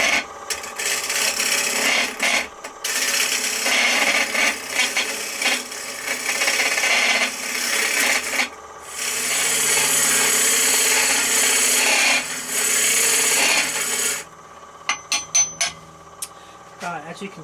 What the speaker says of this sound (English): we'll just gently, gradually start to hollow away